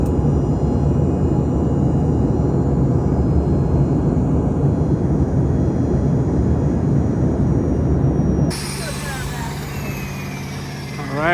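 Inside a small passenger airplane, the engine drones loud and steady for several seconds, then the sound changes to a thinner, quieter whine near the end.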